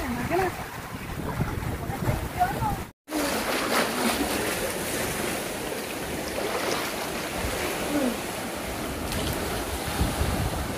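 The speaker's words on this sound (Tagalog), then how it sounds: "Alon for more! Yan, ang ganda ng alon." Ocean waves break and wash against the shore at sea off Dumangas, Iloilo, a loud continuous surf roar with wind buffeting the microphone, a brief dropout early on, and people talking faintly.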